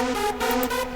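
A short synth electric instrument in the Roblox BeatMerger sequencer plays a quick run of bright, buzzy synthetic notes, three stepped tones within about a second, loud and alone.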